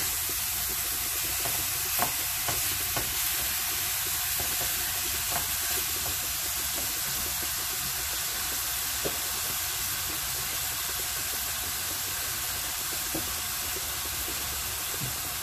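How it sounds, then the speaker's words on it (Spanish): Ground beef frying without added oil in a pot, releasing its own fat, gives a continuous loud sizzle and hiss with occasional soft pops and stirring clicks, heard alone. "Añadimos la carne va a soltar grasa y con eso es más que suficiente."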